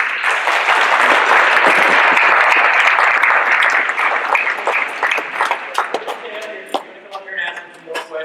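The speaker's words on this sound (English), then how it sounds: "We're going to give a round of applause." Audience applause at a real-estate investing talk, dense clapping from a crowd that is loud at first and then thins and fades into scattered claps toward the end.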